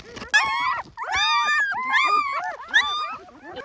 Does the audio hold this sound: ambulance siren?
no